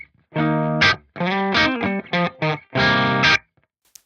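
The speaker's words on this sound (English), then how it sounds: "Here's the dry guitar sound." Clean, unprocessed electric guitar played through an Axe-Fx amp and cab simulation, heard alone as several sustained chords and short phrases with brief gaps between them.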